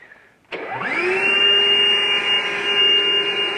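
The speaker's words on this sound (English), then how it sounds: "So this is the cabinet's suction capacity." A sandblasting cabinet's suction unit, an ALC cabinet from Northern Tool, starts up with a click and spins up into a loud, steady whining drone that holds alone to the end.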